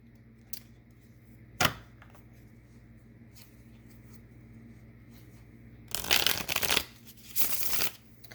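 Tarot cards being shuffled by hand, with a few soft taps and flicks followed by two brisk riffling bursts near the end, close and fairly quiet, with no talking.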